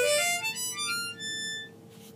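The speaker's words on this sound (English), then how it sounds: "And if I draw from 1 to 10, it sounds like this." A Hohner Special 20 Marine Band harmonica is drawn across holes 1 to 10 in one quick ascending run of bright reedy notes, played alone and close.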